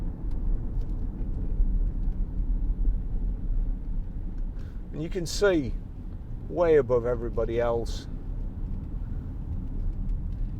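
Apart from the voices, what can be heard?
Range Rover V6 diesel car driving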